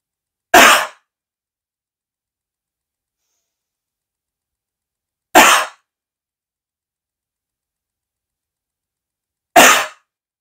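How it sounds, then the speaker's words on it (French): Three strong, deliberate coughs, each a single sharp burst separated by several seconds of complete silence. "réaliser une toux forte et efficace avec un volume d'air conséquent"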